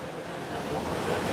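Ocean waves rolling in against the shore at the Monkey Pod in Hawaii, a steady broadband wash of surf heard from a short distance, continuous and even with no clear individual breaks.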